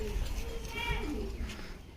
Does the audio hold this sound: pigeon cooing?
yes